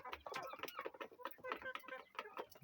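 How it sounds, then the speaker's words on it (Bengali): Hens clucking nearby in a quiet, busy chatter of short repeated calls, fairly soft and continuous. "খুব সুন্দর ডিম পাড়ে এই মুরগিগুলো,"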